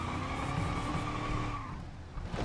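Racing video game car with a damaged radiator and engine, its engine droning steadily while tires skid and squeal, the roar dropping away near the end with a brief scrape.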